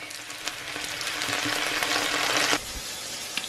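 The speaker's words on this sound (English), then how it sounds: "I'm frying the mushrooms in sesame oil and adding a little bit of soy." Steady sizzling and crackling of mushrooms frying in sesame oil with a little soy sauce, with a brief stir partway through, close and moderately loud.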